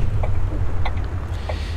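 A city bus engine in the driving game The Bus runs with a steady, loud low rumble as the vehicle pulls away, with a few faint clicks on top.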